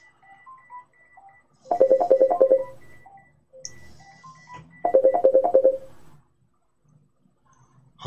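A WhatsApp call ringing tone, two bursts of a repeating bright trilling pattern separated by quieter beeps and tones, clear and close with no talk.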